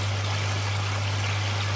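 A pond pump rated around 50 to 60 litres a minute keeps water moving in a steady, soft trickling wash beneath a constant low electrical hum, with nothing else over it.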